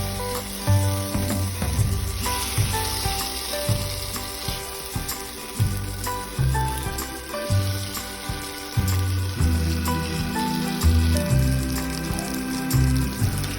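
Brandy hits a hot pan of beef stroganoff, a loud continuous sizzle and crackle with rhythmic scraping and stirring knocks layered over it, close and busy throughout.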